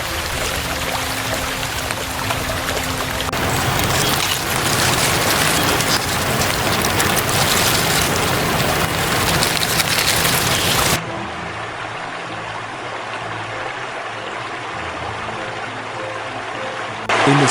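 Heavy rain during Hurricane Otis in Acapulco, Mexico, a loud continuous downpour hissing on surfaces, dropping to a quieter, steadier rainfall partway through.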